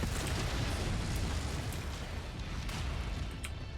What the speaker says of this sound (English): And you just suffered an ammo explosion.